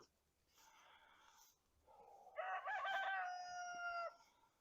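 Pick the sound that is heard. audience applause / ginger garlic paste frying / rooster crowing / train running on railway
rooster crowing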